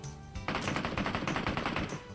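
Bursts of rapid automatic gunfire from a PUBG Mobile match, a loud, dense rattle of repeated shots that begins after a short quiet moment and keeps going without pause.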